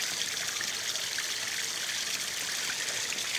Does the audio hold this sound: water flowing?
yes